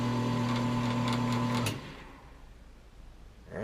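A wood lathe set up for pen turning hums with a steady motor tone, then is switched off and spins down, leaving a quiet room hiss before a faint new sound at the very end.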